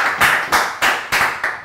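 A few hands clap in a small audience for guests at a comedy show, six distinct, evenly spaced loud claps, close by and alone.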